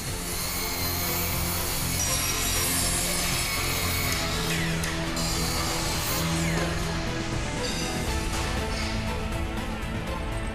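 A loud, continuous electric chainsaw grinds through wood with a steady rasping roar, close by and without pause.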